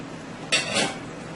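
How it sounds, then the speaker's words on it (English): Baby corn and peppers dropping into a hot pan while cooking angel hair pasta with beef and veggies, giving one brief clattering rustle followed by a softer sizzle. "I am going to add my corn, my baby corn, and I am going to add my peppers"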